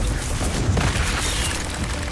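A Confringo explosive spell goes off in Hogwarts Legacy, a loud, deep boom that merges into a dense, continuous roar of battle noise lasting the whole stretch.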